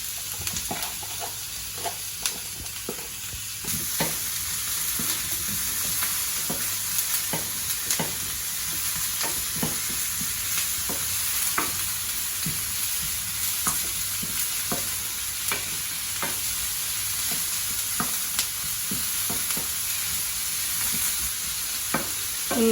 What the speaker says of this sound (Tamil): நம்ம ஆயில் சூடாயிருச்சு. ஆனியன் போட்டு ஸ்டார்ட் பண்ணிடுவோம்.